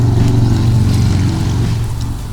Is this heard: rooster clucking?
no